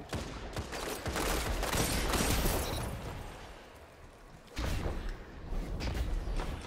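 Rapid bursts of gunfire in the video game Destiny 2 during a Crucible match, dense overlapping shots for a few seconds, then a short lull before more shooting resumes.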